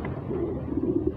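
A young pet pigeon, newly hatched from a second clutch, coos softly up close in a low, brief murmuring call that lasts about a second.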